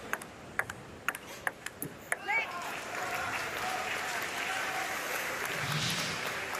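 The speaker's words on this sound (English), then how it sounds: "Peric, Rankovic applauding the shot there." Spectators applaud a shot at a Paris 2024 Paralympic wheelchair singles table tennis semifinal; a few sharp ball ticks come first, then steady, moderately distant clapping fills the rest while a commentator talks.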